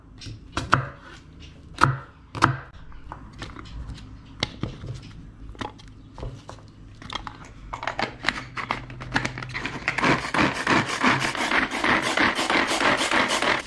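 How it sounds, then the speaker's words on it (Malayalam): Onion, ginger and green chilli are finely chopped on a board: sharp knife knocks at first, then a rapid, steady run of close chopping that grows louder and denser. "അപ്പോൾ ഇതുപോലെ ചോപ്പ് ചെയ്തെടുക്കണം കേട്ടോ, നല്ല ചെറുതായിട്ട്"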